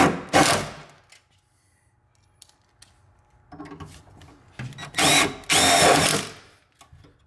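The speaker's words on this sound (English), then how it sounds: "now we've got our 4 self-tappers in that we've installed with our nut driver" Nut driver sinking self-tapping screws into a 2007-2018 Mercedes Sprinter rear tire carrier, with loud close whirring bursts at the start and two longer runs near the end, separated by quiet clicks and handling.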